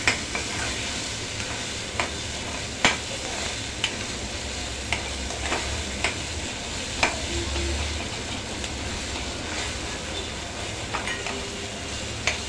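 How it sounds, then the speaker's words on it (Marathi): Finely chopped tomato sautés in a pan with a steady loud sizzle, punctuated by sharp clicks of a spatula stirring every second or two; nobody speaks. "एक बारीक चिरलेला टोमॅटो घातलाय एक दोन मिनटं आपण छान परतून घेऊ"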